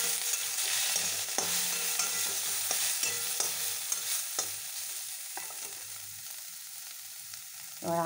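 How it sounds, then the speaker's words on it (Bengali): A spoonful of whole cumin seeds sizzles in hot oil in a pan, a steady close crackling hiss with light stirring scrapes and a few sharper pops throughout. "আমি এখানে গোটা জিরে দিয়ে দিলাম 1 চামচ।"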